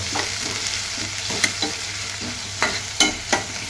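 Onion sautéing in oil in a pan for chicken biryani, a steady close sizzle with a handful of sharp spatula scrapes and taps spaced irregularly through it.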